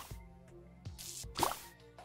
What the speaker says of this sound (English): let's do the water balloon bomber first